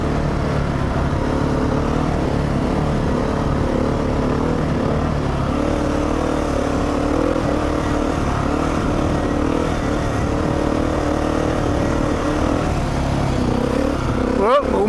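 A lightweight dirt bike running through sand, its engine droning loud and steady up close with wind buffeting throughout and a short sharp disturbance near the end.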